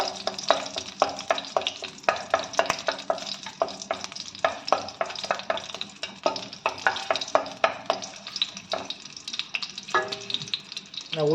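Dried chillies and mustard seeds frying in hot oil while being stirred, a lively crackling sizzle with rapid irregular pops and spoon scrapes, close and continuous with no talking.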